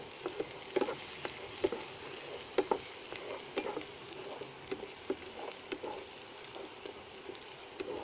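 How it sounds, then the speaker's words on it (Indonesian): Garlic frying in hot oil in a wok gives a steady sizzle dotted with sharp pops and crackles and occasional stirring scrapes, close and fairly loud, with no talking. "goreng bawang putihnya terlebih dahulu hingga berubah ke kuning-kuningan"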